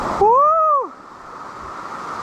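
A waterfall rushing in a steady, even roar that carries on alone after a short whooping voice at the start.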